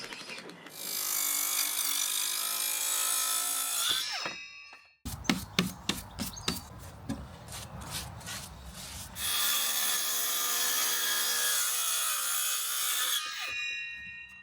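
Wooden floorboard overhang on a large shed floor is trimmed, with two long, loud bursts of sawing separated by a stretch of sharp knocks and clicks.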